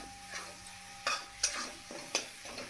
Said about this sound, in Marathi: आपला मसाला भाजत आलेला आहे।